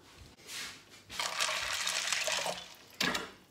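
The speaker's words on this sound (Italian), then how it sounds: "adesso li vado a mettere in pentola a pressione. gli vado ad aggiungere di nuovo l'acqua" Fresh water is poured into a pressure cooker holding rinsed beans, a short splash followed by a steady rushing pour lasting a couple of seconds, then another brief splash, close and alone.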